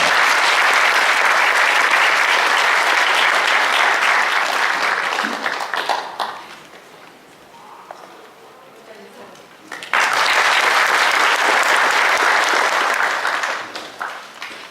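A crowd applauds loudly as three lawmakers are welcomed at a live urban and cultural regeneration event, the clapping dipping to a quieter patch midway before surging back strong, with a voice briefly heard beneath it.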